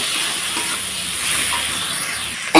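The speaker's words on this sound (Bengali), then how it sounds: "তো দেখো মশলাটাকে বেশ সুন্দর কষিয়ে নিয়ে এসেছি, সাইড দিয়ে তেল ছাড়ছে" Ground spice paste of ginger, cumin, chilli and garlic frying in oil, with a close, loud, steady hiss and sizzle throughout and a brief knock at the very end.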